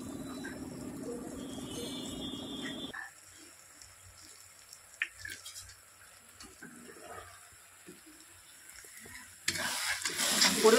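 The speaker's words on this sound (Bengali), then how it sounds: "এদিকে চিলি চিকেন হচ্ছে" Chili chicken cooking and papad frying in a home kitchen, a close sizzle in the first few seconds, then a quieter stretch of faint clinks before a louder frying burst returns at the end.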